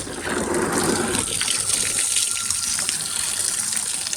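Water gushing and splashing onto a newly finished concrete roof at a house, a steady broadband rush from a hose or pipe that is heavier at first, then continues evenly at close range with no talk.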